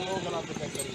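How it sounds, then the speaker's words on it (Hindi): Horse hooves pounding past during a Neza Bazi tent pegging competition, a brief rush of galloping clatter under steady commentary and crowd noise. "घोड़ा सवार आया जी, बड़े स्पीडर घोड़े बहुत खूब"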